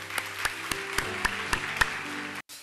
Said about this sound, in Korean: 우리 다시 한번 하나님 앞에 영광과 감사의 박수 올려드리도록 하겠습니다.